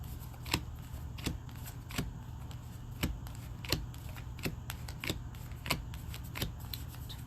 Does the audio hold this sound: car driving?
no